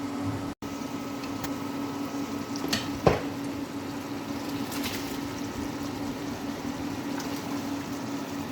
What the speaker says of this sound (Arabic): هسه راح اذب التمن.